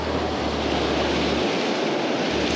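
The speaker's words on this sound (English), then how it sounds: "these waves are super crazy as well" Ocean surf crashes against a rocky jetty at Oceanside, California, during a heat wave, a continuous loud broadband roar of churning water with heavy wind buffeting the microphone and no speech.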